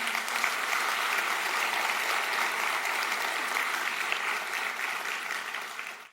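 Church congregation applauding during a sermon: steady, even clapping from a large group, moderately distant, fading out at the end with no talk over it.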